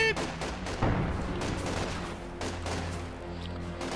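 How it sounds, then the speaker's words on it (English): Small arms fire in the Company of Heroes 2 real-time strategy game, with dense overlapping rifle and machine-gun bursts rattling continuously over rumbling battle noise. "Small arms fire."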